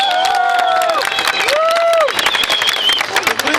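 A live audience claps and cheers in a dense, close burst of applause, with shrill rising and falling tones riding over it.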